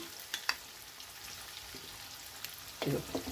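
Ginger pickle mixture stirred in oil in a pan: a faint, continuous soft frying hiss with a few scattered scrapes, quiet and close, with no talking.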